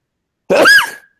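A single sharp sneeze bursts out close by, brief and loud, surrounded by silence.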